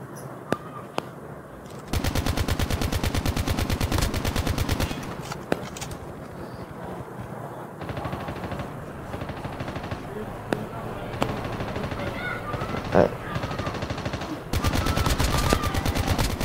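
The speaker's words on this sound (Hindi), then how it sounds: "अरे पीछे से भी फायरिंग, आगे से भी फायरिंग, सब जगह फायरिंग ही चल रही है यार" Automatic gunfire rattles in rapid bursts in the mobile shooter Call of Duty: Mobile, loud and nearly continuous with brief pauses, while someone talks excitedly over it.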